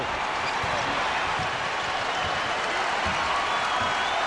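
Louisville Cardinals basketball crowd in an arena standing and roaring for their team during an NCAA tournament game, a dense, sustained wall of cheering with ball bounces and court noise beneath.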